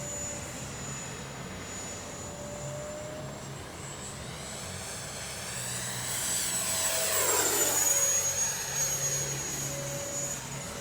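A Freewing F-22 RC jet flies past with a rising and falling whine, growing louder as it nears and fading again, heard alone without voices.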